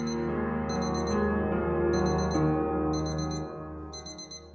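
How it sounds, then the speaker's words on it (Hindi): An alarm clock rings in repeated bursts of high electronic beeps, four groups spaced about a second apart, over a steady low tonal bed in an indoor drama scene. "भैया अलार्म बंद कर दो।"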